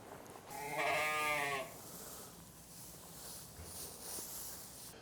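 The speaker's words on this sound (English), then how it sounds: "Our Swiss Valais sheep are due to lamb." A Swiss Valais sheep gives a single loud, wavering bleat close by on the farm, followed by quieter rustling and faint movement sounds.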